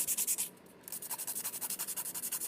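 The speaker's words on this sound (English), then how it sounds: "It's just that when I sand really crazy and hard. So I'm just going to go along the side," Rapid, even back-and-forth strokes of a nail file sanding the side of an acrylic nail with a marble effect, a close, raspy rhythmic scratching that briefly pauses before resuming at a steady pace.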